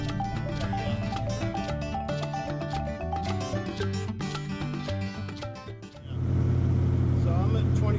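A boat's engine is revved at open throttle during a transmission test, a loud, steady roar arriving abruptly for the final two seconds after a stretch of music.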